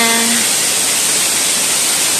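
Tonbo Falls, a waterfall at a mountain shrine, gives off a loud, continuous broadband rush from up close. A brief tone fades out in the first half-second, and no voices are heard.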